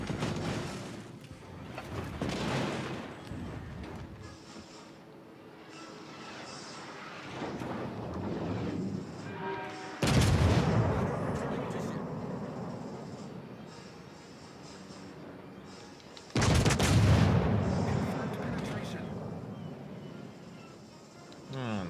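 Naval artillery shells fire in World of Warships: Legends, with two big booming salvos about six seconds apart among rushing wind and sea noise, while a voice talks over the battle.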